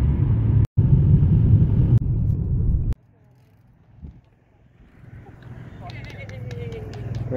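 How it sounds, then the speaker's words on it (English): A car carrying bikes and gear drives along a road; a loud rumbling cabin drone cuts off abruptly, leaving quieter road noise that gradually builds again with faint higher rattles. "and Brianna's driving"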